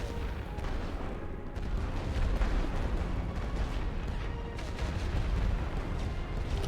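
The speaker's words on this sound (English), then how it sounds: "I'm going to start working on these frontline infantry, getting them weakened with my heavy artillery." Heavy artillery booms and rumbles without a break in The Great War: Western Front, layered blasts and gunfire rolling dense and loud over a dull battlefield din.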